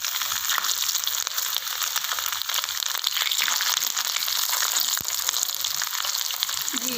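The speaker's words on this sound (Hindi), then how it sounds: "तो एक एक करेला उठाते हैं और इस तरह हम फ्राई करते जाएंगे।" Stuffed bitter gourds (karela) fry in a pan of cooking oil with a steady, close sizzle and crackle that runs throughout, alone without talk.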